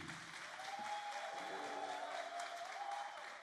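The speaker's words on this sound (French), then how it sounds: "Applaudissez pour vous" Studio audience on the TV show La Télé d'Ici applauding steadily for several seconds, a dense even wash of clapping with a faint tonal whistle or music line running underneath.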